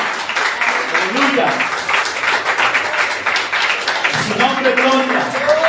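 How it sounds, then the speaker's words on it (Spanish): Worshippers in a church give the Lord an offering of applause, a moderate, busy clapping that runs throughout beneath someone speaking loudly with praise exclamations. "Den una ofrenda de aplausos al Señor"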